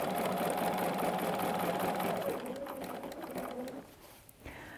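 A sewing machine stitches the final quilting seam on a cushion, a steady close mechanical whir running for several seconds before easing off near the end.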